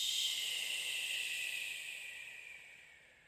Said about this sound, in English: Open your mouth, exhale it out.